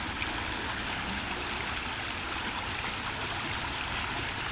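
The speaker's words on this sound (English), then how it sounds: "Down at the creek." Steady rushing creek water at Rock Cut State Park, a constant broad burble and hiss with no pauses and no voices.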